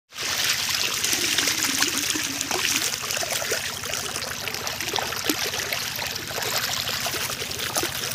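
Water trickling and flowing through an irrigation channel in a farm field, a steady close babbling stream with a low continuous rumble underneath.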